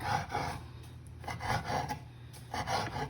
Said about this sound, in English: now I'm going to cut off all the fat and all the parts that my husband doesn't like